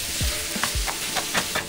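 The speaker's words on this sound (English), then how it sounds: "I'm going to cook the sausage, breaking it up and mixing it in with the onion" Crumbled sausage and onion sizzle in a frying pan while a utensil scrapes and stirs in several short strokes, with a steady background hiss of frying and no talking.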